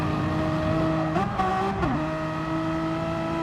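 Renault Megane Trophy racing engine in a sim race at Autopolis, droning steadily as the throttle is feathered, with two quick dips and recoveries in pitch midway before settling back to a steady loud hum.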